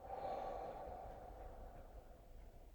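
A single slow, soft breath out during a guided breathing exercise, faint and close, fading gradually over a few seconds.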